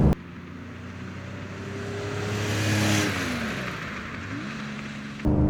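A 1971 Porsche 911 2.2 T in original condition accelerates hard, the engine note rising and swelling to a peak, then shifting and falling away, heard close and alone.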